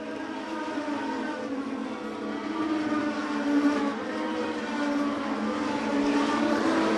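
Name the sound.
stock cars racing at Wiscasset Speedway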